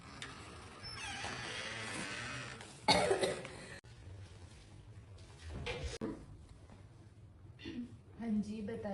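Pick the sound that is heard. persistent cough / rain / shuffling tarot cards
persistent cough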